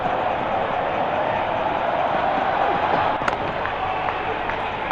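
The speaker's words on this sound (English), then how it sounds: "Crowd going mad here." Steady crowd roar from a Real Cricket 24 match fills the stadium after a boundary shot, a broad continuous wash of cheering with a brief sharp accent midway.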